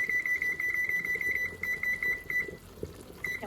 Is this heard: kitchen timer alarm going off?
yes